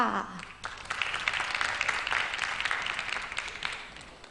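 An audition audience claps steadily for several seconds, with a short voice heard just before the clapping begins.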